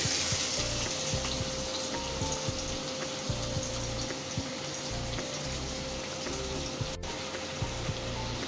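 Finely chopped garlic and onions with a pinch of salt sauté in a pan, making a continuous, even sizzle and crackle with no voice.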